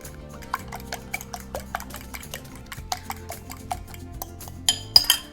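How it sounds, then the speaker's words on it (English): A utensil strikes the side of a bowl in quick irregular clinks and taps while two eggs are gently beaten for courgette fritters, close and fairly quiet, with a few sharper knocks near the end. "Take 2 eggs and gently beat."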